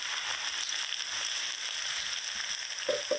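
Pointed gourd seed paste with ginger, green chili paste and turmeric frying in hot oil in a kadai, a steady close sizzle with scattered crackles and a couple of soft stirring knocks near the end.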